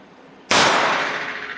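A single loud, close gunshot from a Taurus 605 .357 revolver with a 2-inch barrel, fired at a target: a sharp, explosive crack followed by a long, ringing decay.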